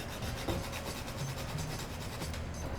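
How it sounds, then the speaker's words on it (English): Nutmeg grated by hand in a home kitchen while a kitchari pot cooks, a steady, fairly quiet rasping scrape repeating in quick strokes for a few seconds, with no talking. "Then we grate the nutmeg."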